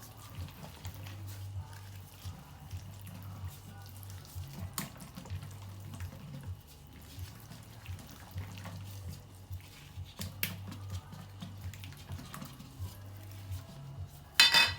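Turkish-style chicken marinade stirred in a bowl, a steady soft scraping and clinking of utensil against the dish repeating in a rhythmic back-and-forth, close and moderately quiet with occasional sharper clinks.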